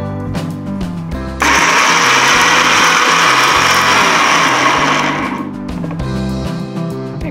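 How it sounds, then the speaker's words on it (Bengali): An electric blender grinds an onion and tomato spice paste with a little oil, a loud whirring roar that starts suddenly and runs for about four seconds before winding down among faint kitchen clatter. "একটু তেল দিয়ে ব্লেন্ড করি"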